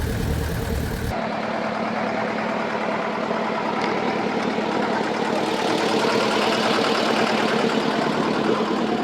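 Steady drone of a trawler's engine under way on the Pashur river, a dense continuous mid-low chug with water rush, loud and close, no voices.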